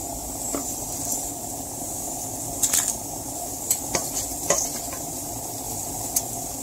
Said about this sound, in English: After putting my rice in my pot, I just stir it around.